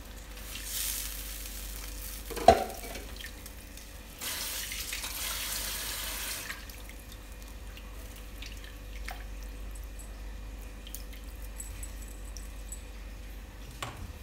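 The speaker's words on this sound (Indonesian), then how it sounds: "Tambahkan air. Ini airnya kurang lebih 500 sampai" Water pours into a cooking pot for tom yam soup with tofu and fish balls, a sharp clank and then a steady splashing stream for a couple of seconds, followed by quieter kitchen sounds.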